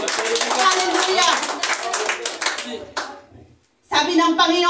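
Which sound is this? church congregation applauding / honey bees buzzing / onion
church congregation applauding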